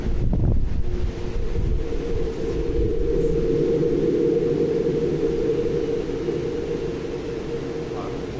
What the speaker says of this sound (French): vous avez entendu un séisme sur Mars